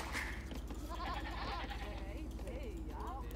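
Sheep in Age of Empires II let out faint, short bleats against a quiet game background, while someone talks over them.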